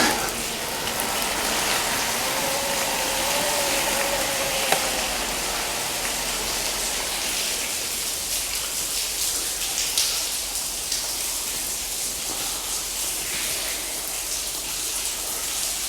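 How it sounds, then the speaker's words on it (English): Heavy rain pours down in a dense, steady hiss, heard from inside an abandoned railway tunnel. The downpour is loud and continuous, with no talking. "there's a freaking rainstorm happening"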